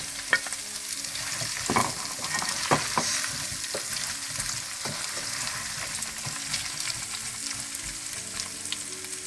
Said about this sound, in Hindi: थोड़ा सा भूनने के बाद आप इसमें चिकन डाल दें।